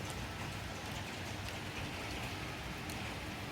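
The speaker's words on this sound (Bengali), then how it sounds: "হয়েই যাচ্ছে বৃষ্টি" Steady rain pours down during a prolonged low-pressure spell, a soft continuous hiss of drops on surfaces, fairly quiet and unbroken, with no voices.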